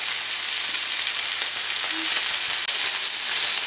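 Flipped flank steak fries in a pan with a loud, dense, steady sizzle, close up, with a brief clunk near the middle.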